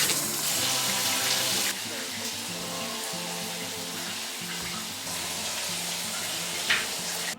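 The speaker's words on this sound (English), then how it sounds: "get in the shower" Running shower water, a steady broadband hiss and patter that continues without a break throughout, close and fairly loud, with faint background music beneath it.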